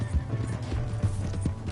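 Horse hooves pound at a gallop in a video game, a fast, steady run of low thuds carried on through the whole stretch with a whinny mixed in, fairly close and loud.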